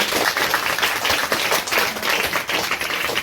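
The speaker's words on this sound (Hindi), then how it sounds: "चलो इसके लिए ताली बजा दो।" Students in a classroom clap for a prize winner at a science award ceremony, a short burst of brisk, close-sounding hand claps from a small group.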